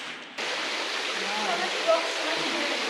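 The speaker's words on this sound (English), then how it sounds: "Oh, little waterfall." A small waterfall on a hiking trail past calcium-depositing pools, giving a steady, close broadband rush of falling water that starts abruptly and holds evenly, with faint voices of passing hikers in the background.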